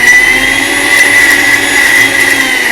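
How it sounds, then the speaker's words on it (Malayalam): A mixer grinder runs steadily, grinding Al Faham marinade into a fine paste with a loud, constant high-pitched motor whine and blade roar. It sounds close and continuous, with no pauses and no voices. "ഇനി ഇത് നമുക്ക് ഗ്രൈൻഡ് ചെയ്തെടുക്കാം"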